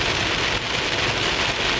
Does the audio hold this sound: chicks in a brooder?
no